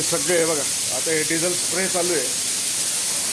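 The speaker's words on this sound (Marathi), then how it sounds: "बघा आता हे डिझेल स्प्रे चालू आहे" Diesel sprayed onto a Royal Enfield Meteor motorcycle makes a steady, close hiss that runs the whole time, with someone talking over the first half.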